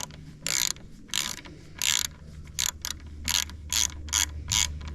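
Ratchet wrench clicking in quick bursts while removing bolts on a Jeep TJ windshield mount, about eight sharp close-up ratcheting runs with brief pauses between them.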